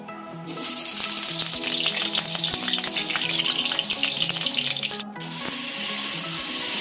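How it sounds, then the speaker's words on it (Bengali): Potatoes hiss and crackle in hot oil in a wok, a loud, steady sizzle that briefly cuts out and resumes, with faint clinks and scraping mixed underneath. "কড়াইতে তেল দিলাম, আলুগুলোকে এবার ভেজে নিলাম।"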